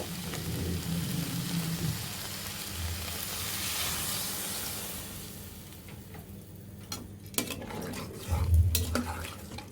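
Water pours into a pan of river chanda fish and eggplant curry, making a steady rushing hiss that fades, followed by a few utensil clinks against the pan.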